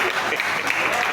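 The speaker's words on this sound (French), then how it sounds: "Applaudissez." A crowd at a general assembly meeting claps in a brief, dense burst of applause, steady and moderately loud throughout.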